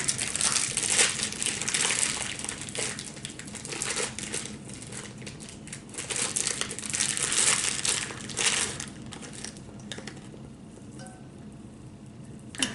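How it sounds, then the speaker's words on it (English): Dates are tumbled into a thick batter in a bowl for PA Dutch Michigan Rocks cookies, giving a continuous close crunching and squelching stir in uneven waves that ease off toward the end. "that's just a matter of tumbling them, mixing them up a little bit until they're mixed thoroughly into the batter"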